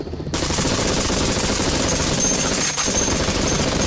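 Sustained burst of rapid automatic gunfire triggered as a sound effect from a Stream Deck, loud and continuous for several seconds after a brief quiet start, with a short dip near the end.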